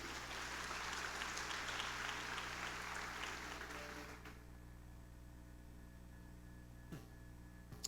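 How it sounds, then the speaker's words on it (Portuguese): Church congregation clapping together for about four seconds, a dense steady patter over a low mains hum, then stopping and leaving only the hum with a faint knock. "Aplauda ao Senhor Jesus."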